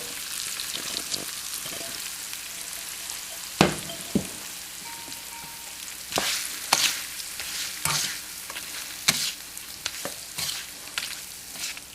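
Poha (flattened rice) is stirred in a pan with a tempering of hing, dried red chilli and curry leaves, a gentle sizzle under repeated sharp scrapes and clinks of the spatula, close and moderately loud.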